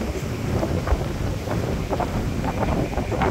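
Strong coastal wind and breeze at a floating mosque in Jeddah, buffeting the microphone in a loud, continuous roar with no talking.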